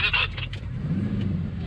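A Bugatti Chiron accelerates hard on a 1.6-kilometre runway, its engine a close, deep, steady roar with a brief higher-pitched whine at the start.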